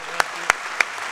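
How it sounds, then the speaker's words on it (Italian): Three sharp, evenly spaced handclaps ring out about a third of a second apart at a 2019 student day ceremony in Italy honouring the town of Varallo, with a quiet room behind them and no talking. "Applauso a loro."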